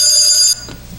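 A telephone rings with a bright, steady electronic trill for about half a second, then cuts off abruptly, leaving a quiet room.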